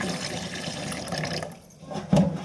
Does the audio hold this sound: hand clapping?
no